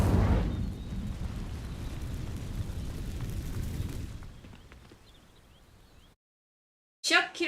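An Incendio fire spell ignites dry vines in Hogwarts Legacy with a sudden whooshing burst, then a roaring, crackling burn that fades over several seconds into silence before a brief new sound.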